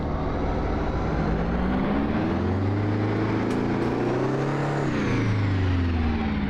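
A truck engine drones in American Truck Simulator with a physics mod. It is a loud, continuous rumble whose pitch rises and falls as the revs shift, with no talk.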